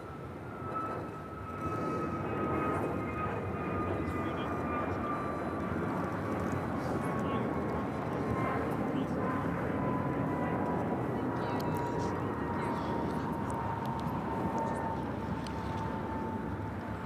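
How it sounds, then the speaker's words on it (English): An Asiana Airbus A380 takes off from runway 24 left at LAX, a distant, steady jet roar with a slowly descending whine that holds throughout, faint and far off. "So Asiana, the A380 Super, the first of two A380s, going to be taking off on the north side."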